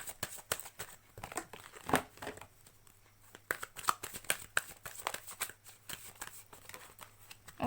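Tarot cards shuffled and drawn from a deck make faint, close crinkling and papery flicks in irregular bursts.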